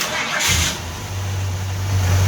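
A Ford Fairlane engine cranks briefly and catches, settling into a steady low rumble that holds to the end.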